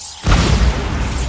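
A Bombarda spell explosion in Hogwarts Legacy, a sudden loud boom that swells in and rumbles on without fading.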